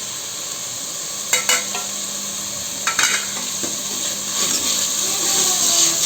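Mint leaves being sautéed in a pan for wheat kanji give a continuous close sizzle, broken by a few sharp scraping stirs of a spoon against the pan, with no talk.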